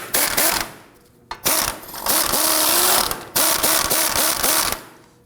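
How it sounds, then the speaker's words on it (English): An impact gun works at a 15mm nut on a Volvo S60 front sway bar end link in a series of loud rattling hammering bursts separated by short pauses. "Let's go ahead and use our impact gun to see if we can loosen this."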